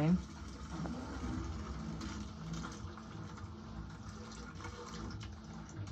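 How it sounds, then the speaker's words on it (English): An LG WM3400CW front-load washer drains its drum in service mode, a continuous gurgling rush of water under a low mechanical hum, fairly quiet and steady, with someone talking intermittently. "Pushing the button again will drain the drum."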